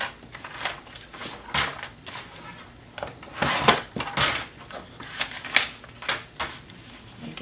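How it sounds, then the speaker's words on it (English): Paper pieces for a mini album are trimmed to six inches on a paper cutter, giving close, irregular slicing swipes, taps and shuffles of sheets, with no talk. "just cut a little piece off the one end, flip it around, and cut it to be 6 inches."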